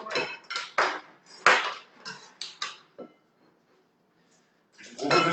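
Plates are clattered onto a counter in a kitchen to set up breading for cordon bleu, a quick run of sharp ceramic knocks and scrapes, a short pause, then a final clatter.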